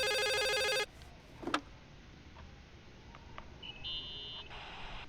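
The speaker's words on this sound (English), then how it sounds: "There's the phone." In the horror video game The Suicide of Rachel Foster, a telephone rings with a loud electronic trill that cuts off abruptly, followed by quiet room ambience with faint clicks and a thin tone.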